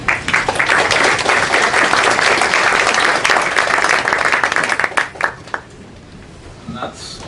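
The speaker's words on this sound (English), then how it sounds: "I'm going to ask one round of applause for Jean-Pierre Lacroix, please." A room of attendees at a UN peacekeeping forum applauds a speaker, a dense burst of clapping that thins into a few scattered claps after about five seconds and fades toward quiet.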